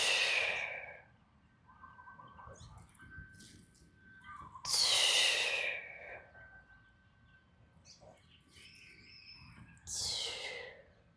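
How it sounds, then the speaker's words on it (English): Deep breathing during a slow movement flow exercise, three loud, breathy exhales spaced several seconds apart with quieter inhales between, close and intimate with no talking. "Breathing."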